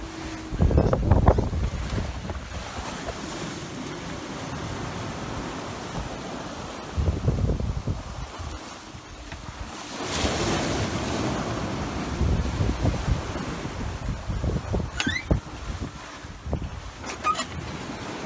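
Steady wind of up to 25 knots rushes over open sea while swells wash and slap around a sailing boat, a continuous, fluctuating roar with no voices.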